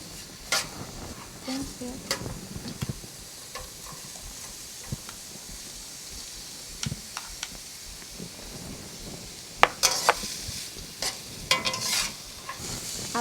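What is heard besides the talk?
vegetables frying in a pan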